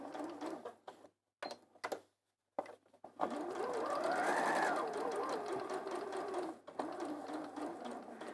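A sewing machine stitches a bag kit panel around curves in bursts, stopping and starting as it pivots with the needle down, then running steadily for several seconds; close and clear with no talk.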